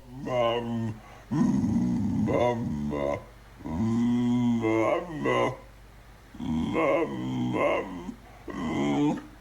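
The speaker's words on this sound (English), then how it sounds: "this dog sounds exactly like they're saying mama" A dog vocalizes in long, drawn-out whining howls that rise and fall like a voice saying "mama," four sustained phrases separated by brief pauses, loud and close.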